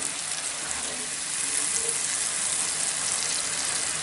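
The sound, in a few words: masala frying in a pan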